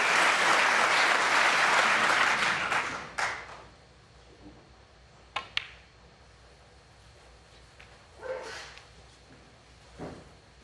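A snooker crowd bursts into loud applause for a shot, clapping strongly for about three seconds before fading into scattered claps and a few faint sounds.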